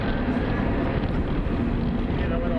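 A Tesla Roadster electric car accelerates hard to 60 mph, heard as a steady, loud rush of wind and road roar with a faint motor whine, unbroken from start to finish.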